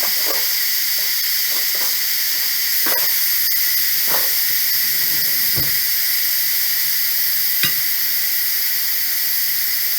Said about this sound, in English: we got the little mini pod here. Just letting steam out.